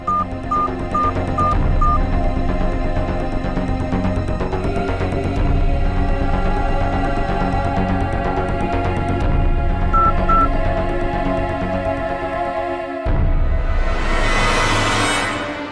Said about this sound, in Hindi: उन्हें फोन करता हूँ।